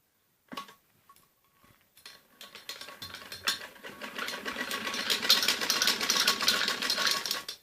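Sewing machine stitching the sleeve of a child's umbrella frock with long stitches, starting with a few faint clicks, then building into a steady mechanical whir that grows louder and continuous, close by.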